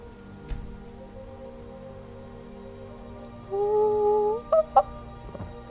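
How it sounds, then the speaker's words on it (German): Rain falls steadily in Skyrim. A soft wash of drops runs beneath a sustained tonal game sound and a few short blips near the end, with no talking. "Deswegen warten wir im Regen."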